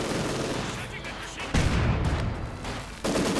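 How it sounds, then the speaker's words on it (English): Mortar fire in Company of Heroes 2, in a 2v2 match: heavy booming impacts land in sharp jumps amid constant crackling battle noise, with voices faintly mixed beneath. "Mortar continues to fire here at the fascist positions."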